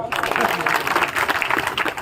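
An audience at a Diwali gathering claps steadily and densely throughout, a continuous wash of applause with no pauses.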